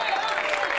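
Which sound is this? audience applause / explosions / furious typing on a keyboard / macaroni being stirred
audience applause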